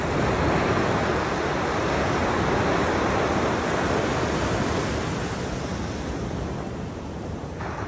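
Ocean surf and wind roar at a Kayalpatnam seashore after rain, a dense, loud, continuous wash of breaking waves with gusting wind noise, easing slightly toward the end.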